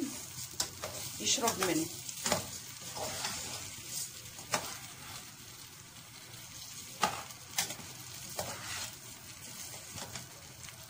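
Rice is stirred in a pot of ghee and oil, a soft steady sizzle broken by irregular scraping strokes and clinks of the spoon, close and moderately loud, with a brief voice speaking.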